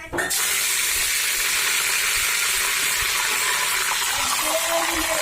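Hot oil with fried mustard seeds is poured into a Kerala thoran with the heat off, setting off an immediate loud hiss that settles into a steady, bubbling sizzle.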